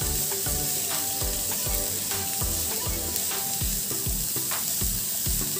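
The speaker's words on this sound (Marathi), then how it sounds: "हे देखील आपण छान व्यवस्थित मिक्स करून घेऊया" Grated cabbage momo filling sautés in a pan under a loud continuous sizzle, with a spoon scraping and stirring in a quick regular rhythm, heard close.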